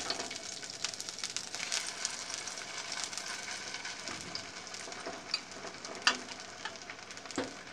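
Potato tacos frying in a pan, a steady, close crackling sizzle of hot oil running throughout with a few sharper pops and spits, no voices.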